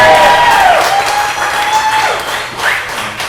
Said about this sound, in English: I just want to everybody give a round of applause to David for doing this.